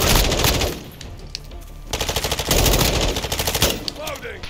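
Call of Duty: Modern Warfare 2 gunfire comes in loud automatic bursts, rapid pulsing rattles with brief pauses between volleys, close and dominant, while a player talks faintly underneath.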